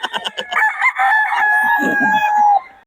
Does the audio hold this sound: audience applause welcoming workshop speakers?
no